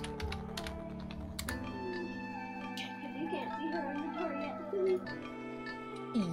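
Computer keyboard typing in a casual home setup, rapid irregular key clicks running steadily under background music and a murmuring voice, with a couple of louder taps near the end.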